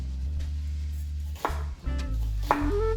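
A knife slicing an onion into long, thin pieces for vegan French onion soup, a few separate crisp cuts against a cutting board over a steady low background hum.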